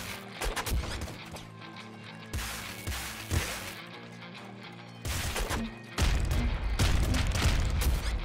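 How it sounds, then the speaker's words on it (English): Rapid gunfire in the top-down shooter Nuclear Throne, clusters of punchy synthetic shots and booms arriving in uneven bursts, growing louder and denser toward the end. "I'm shooting."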